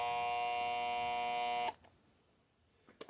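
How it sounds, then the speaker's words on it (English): A vintage 1960s General Electric Model 7369 electric alarm clock sounds its buzzer alarm, a loud steady harsh buzz lasting under two seconds before cutting off abruptly, followed by quiet room tone and a few faint clicks. "It's got like an old 70s buzzer to it."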